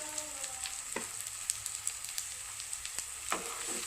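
Turmeric and coriander powder frying in a pan for fish head curry, a continuous bright sizzle with scattered pops and a couple of spoon scrapes.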